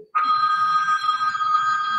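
A telephone rings with a steady electronic tone for an incoming call, starting abruptly and continuing loud and close throughout, with faint low murmuring beneath.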